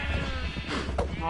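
Sheep in a video game give a couple of wavering bleats at close range, set against a steady background hum, with someone talking faintly at the same time.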